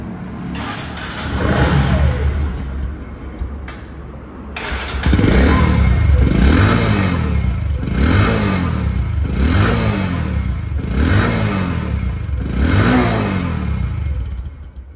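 A Bajaj Discover 125cc motorcycle starts and then runs, its engine blipped in a regular series of revs that rise and fall, loud and close with no talk.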